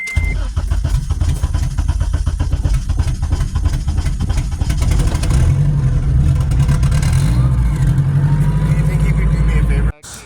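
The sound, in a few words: car engine cold start and revving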